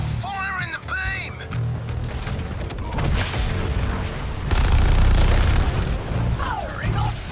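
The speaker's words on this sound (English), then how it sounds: "Look out! It's firing the beam." An enemy weapon charges and fires a beam in Suicide Squad: Kill the Justice League, a loud sustained roaring blast with booming rumble, mixed with shouted voices and other battle noise.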